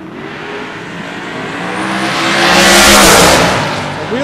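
Drag racing Mustangs at a West Coast Hot Rod Association finals, heard as a loud, close engine roar that swells to a peak of throttle and tire noise near the top end of the track, then fades, with no talk over it.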